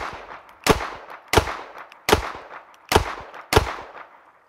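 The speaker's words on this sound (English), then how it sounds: "I fired off a full cylinder of 6 rounds" A Charter Arms Boxer snub-nosed revolver fires five evenly spaced, loud, sharp shots at a range, each report followed by a short ringing decay.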